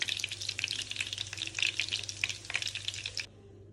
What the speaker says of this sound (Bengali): আমার কাবাবটা ভাজা হয়ে গেছে, এখন আমি এক এক করে কাবাবগুলো তুলে নেব।